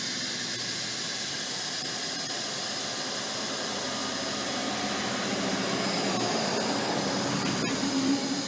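Steady broadband hiss and whine from the pressure regulator of a 2004 Ford Focus being reverse-bled with brake fluid for a clutch problem, a constant rushing tone like a radio switching on, swelling slightly louder toward the end.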